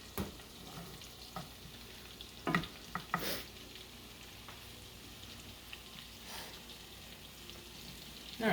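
Garlic shrimp sautés in a pan, a soft continuous sizzle broken by a few sharp scraping stirs and clatters, quiet and close with no talking.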